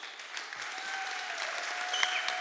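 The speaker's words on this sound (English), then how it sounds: "Now go ahead and applaud." Audience at a candidate forum applauding, an even, sustained round of clapping from many people filling the room for a couple of seconds, with no talk over it.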